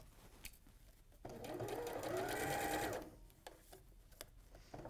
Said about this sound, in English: I'm just sewing back over it.